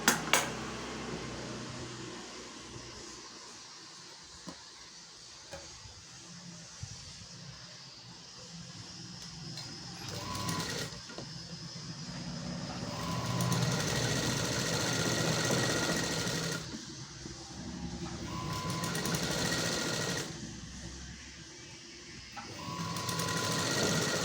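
A sewing machine stitches a sleeve onto a blouse in bursts of rapid, steady mechanical whirring, pausing and restarting several times, close and fairly loud with no talk.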